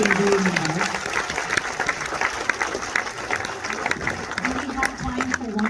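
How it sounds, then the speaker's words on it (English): A film festival audience applauds continuously and steadily for several seconds after an interview answer, a full room of clapping hands with some voices faintly underneath. "let's give him another round of applause for that"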